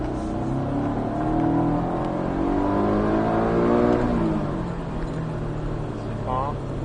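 A Porsche 718 Cayman S on a race track pulls hard, its engine note climbing steadily through the revs, then easing and settling before building again. The car is loud and close, with a voice speaking over it.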